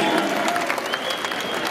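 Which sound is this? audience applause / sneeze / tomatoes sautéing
audience applause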